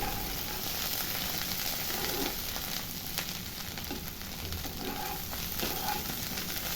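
Boiled potatoes and mushrooms are stir-fried in a pan, producing a continuous close sizzle with occasional scraping stir sounds throughout.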